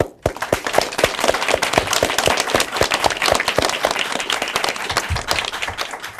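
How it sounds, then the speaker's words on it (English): A room of people at an elementary school academic quiz match applauds, dense overlapping claps sustained and fairly close for several seconds without speech. "I like to end with a big round of applause for yourselves"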